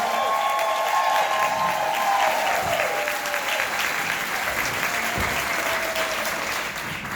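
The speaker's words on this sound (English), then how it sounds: "Let's give them a huge round of applause." A large crowd at a Mary Kay Superstar Saturday event gives directors a big round of applause, with dense, sustained clapping and some cheering that holds steady throughout and eases slightly at the end.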